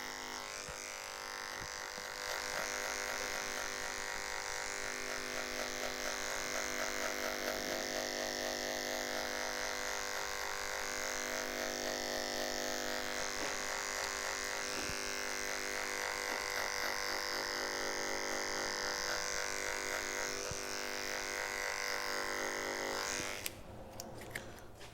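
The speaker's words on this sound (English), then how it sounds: "use an adjustable clipper to take out the fade" An adjustable hair clipper buzzes continuously and close while cutting a fade, a steady loud electric drone that wavers slightly and stops abruptly near the end.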